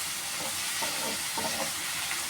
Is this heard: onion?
yes